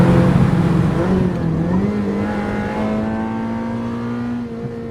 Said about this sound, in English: continue driving along chasing a V12 Jaguar XJS with the roof down